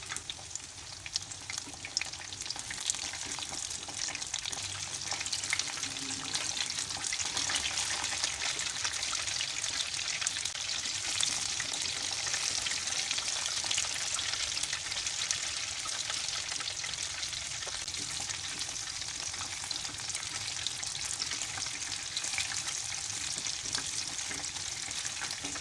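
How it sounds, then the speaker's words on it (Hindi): Fish fingers fry in oil over a medium-low flame, producing a constant bright hiss of sizzling that stays even and close throughout, with faint stirring under it and no voices. "मीडियम टू लो फ्लेम पे इसे मैं फ्राई कर रही हूँ।"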